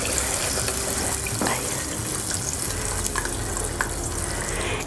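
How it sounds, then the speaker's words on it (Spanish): Water poured into a blender jar to rinse it in a home kitchen during cooking, a steady close splashing and running-water rush lasting throughout with no talk. "Voy a echar un poquito de agua al vaso de la licuadora para enjuagarlo"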